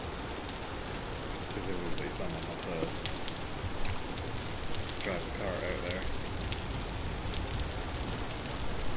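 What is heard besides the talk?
rain falling in the video game Vintage Story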